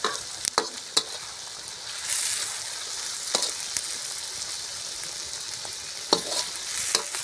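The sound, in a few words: frying tomatoes and green chilies in a pan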